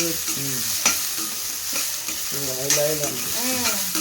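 A cheese snack fries in butter and oil with a loud, continuous close sizzle, while occasional utensil stirs and scrapes cut through the crackle and no one speaks.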